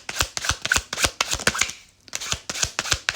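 A deck of playing cards is riffled and bridged in quick, sharp, close bursts with snappy flutters, a brief pause in the middle, then more crisp shuffling.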